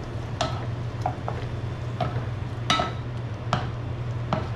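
Shrimp fries in a pan and is stirred, with a steady low sizzle and a handful of sharp, separate clicks and taps of the utensil against the pan at irregular intervals, close by.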